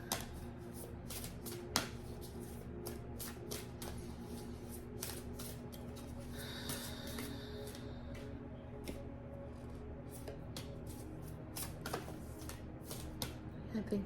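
An Oracle of the Seven Energies card deck is shuffled close up, a steady papery riffle with frequent light snaps and clicks throughout, alone and without talk.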